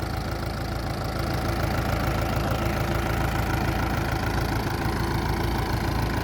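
A four-cylinder engine drives a water pump on a farm, running steadily and loudly at a constant idle-like drone with a low rumble and a faint knocking texture throughout.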